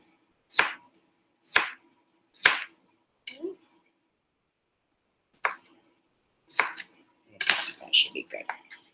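A knife cuts a vegetable into thin bias slices on a board for a ratatouille pita pizza, giving several separate sharp chops with gaps between them and a busier run of clatter toward the end.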